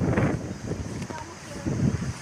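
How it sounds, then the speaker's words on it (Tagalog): Strong gusty wind sweeps across an open rice field, buffeting the microphone with loud low rumbling bursts that swell and fade over a couple of seconds. "Malakas ang hangin mga idol sa amin."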